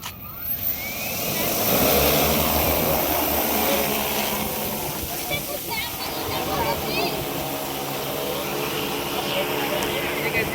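An agricultural spraying drone flies at a farm demonstration with a loud, steady rotor whine and roar that swells over the first couple of seconds and then holds.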